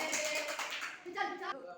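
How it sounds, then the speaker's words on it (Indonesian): A class of schoolchildren claps hands during a lesson, a brief burst of clapping mixed with children's voices chattering over it. "Ya, silakan tepuk tangan."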